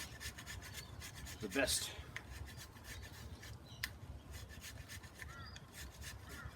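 A knife blade rasps through old, dry fatwood, peeling off long shavings in a few scraping strokes, one louder stroke standing out near the start, close and fairly quiet with a brief spoken word.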